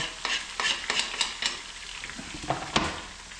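Food frying in hot oil for locro, a steady close sizzle with a busy crackle, broken by several stirring scrapes and clinks of a utensil against the pan.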